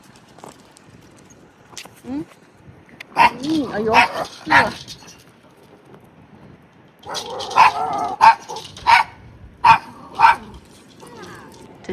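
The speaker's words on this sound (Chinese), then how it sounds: "mini 好 mini 的杜宾啊！" Small miniature Doberman dogs give a series of sharp, close barks in short bursts at a campground, with people talking and exclaiming between and over the barking.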